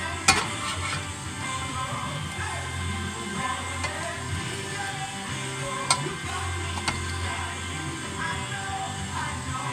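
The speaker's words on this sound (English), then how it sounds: "I want to let this thing cook on both sides nice and evenly, if possible" A crepe cooking in a pan gives a steady, soft sizzle throughout, with a few sharp clicks and light taps of utensil against the pan.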